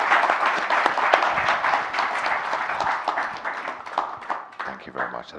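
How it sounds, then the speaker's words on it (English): An audience at a culture and creativity forum in London applauds steadily for several seconds, a dense, close wash of clapping that thins slightly toward the end. "Big round of applause."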